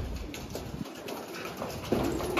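Flock of İspir pigeons, an Antalya breed, flying outdoors with a continuous flutter and soft cooing at close range, with a brief steady tone near the end.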